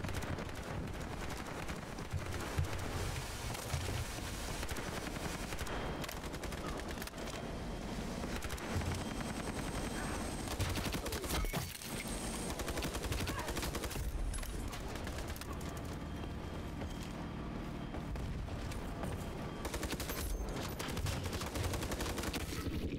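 Dense video-game gunfire from an MP5 submachine gun in Ironsight crackles in rapid bursts throughout, layered with distant shots and battlefield noise, with no speech.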